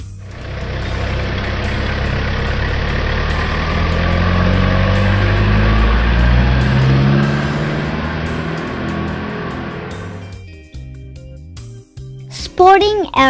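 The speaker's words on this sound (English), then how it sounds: "Town Ace truck." A Toyota Town Ace truck engine rumbles steadily, swelling as it passes close and then cutting off, followed by a few short sounds.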